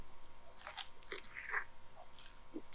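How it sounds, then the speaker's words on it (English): Close, quiet crunching as a crunchy barbecue chicken sandwich is bitten and chewed, a few crisp crackly bursts spread over a couple of seconds. "Listen to that crunch."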